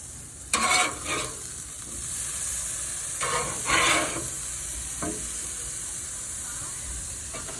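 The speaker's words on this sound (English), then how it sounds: "It's a special Greek cheese, and you just grill it a few minutes." Halloumi cheese and beef sausages grill with a steady sizzling hiss, broken by a few louder bursts of spitting fat and scraping as the food is moved.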